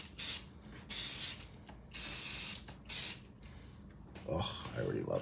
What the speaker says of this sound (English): we're gonna spray.